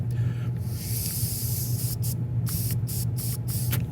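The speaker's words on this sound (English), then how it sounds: "let's blow in here, because I like putting my mouth on filthy old carburetor parts, and then go and see if the air stops" Air blown by mouth through old, grimy carburetor parts from a Craftsman pressure washer, making a steady close hiss that runs nearly continuously and breaks into short gaps toward the end.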